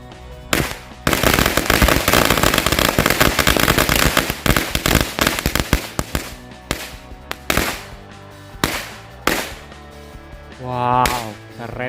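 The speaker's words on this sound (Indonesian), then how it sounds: "yang pertama kita sumet 2 gepok mercon korek" Two packs of mercon korek firecrackers go off together during Eid al-Fitr (Lebaran) celebrations, a loud dense crackle of rapid bangs for several seconds that thins into scattered pops, with a voice briefly audible near the end.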